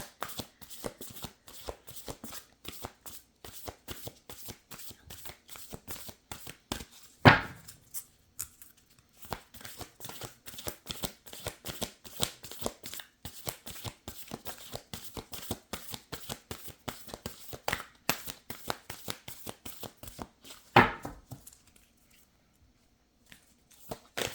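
Nature's Whisper oracle cards being shuffled again and again in a rapid, steady riffling rhythm, with a few louder slaps along the way. The shuffling stays close and continuous for the whole stretch, and nobody speaks over it.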